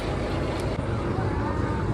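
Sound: river ferry (ballakattu) engine running

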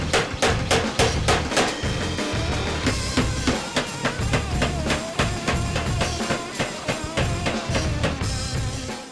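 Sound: power hammer forging steel blade

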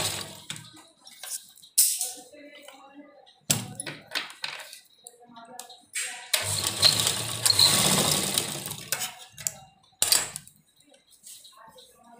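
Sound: sewing machine stitching a kurti neck

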